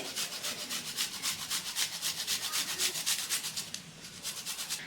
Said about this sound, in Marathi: मी इथे एक इंच आलं घेतलेलं आहे ते आपण किसनीच्या मदतीने किसून घालून घ्यायचे